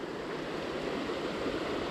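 A river stretch fished for brown trout rushes and flows in a continuous, fairly loud wash of water with no pauses.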